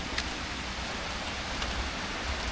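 Steady rain, a dense, even hiss of falling water that fills the whole clip with no pauses.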